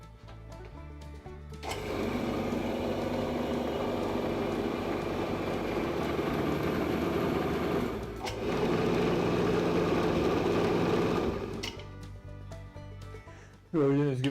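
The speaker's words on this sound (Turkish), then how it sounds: "Tezgah şu anda çalışmaya hazır. Ve tezgahı çalıştıralım." A homemade DIY mini lathe with a pulley set and electric drive starts up and runs with a loud, steady motor whine, briefly dips around the middle, then winds down near the end; no one speaks over it.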